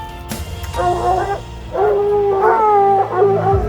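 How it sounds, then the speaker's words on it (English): A pack of hunting dogs bays and howls on a bear trail in Utah, loud and close, with long wavering howls overlapping and rising together. "We rounded this corner and the dogs just blew up."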